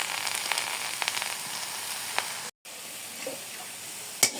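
Leafy greens (saag) sizzling in a pan with salt, a steady frying hiss with faint crackles that runs mostly alone, broken once by a brief gap of silence.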